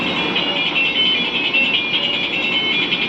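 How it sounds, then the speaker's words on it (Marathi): A loaded goods truck backing up sounds its reversing warning horn, a steady high pulsing electronic tone repeating evenly over a low rumble. "गाडी पाठीमागे येत आहे."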